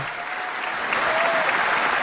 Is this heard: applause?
yes